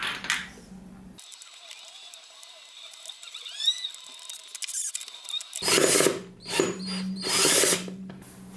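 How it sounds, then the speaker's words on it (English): Screws are driven in with a power drill while assembling an IKEA JÄRVFJÄLLET office chair: a brief whir at the start, a quiet stretch, then loud close bursts of motor whine with pauses between them. "Those 4 middle screws, place them on these 4 spots where the seat and the mechanism are supposed to be connected. Screw them in."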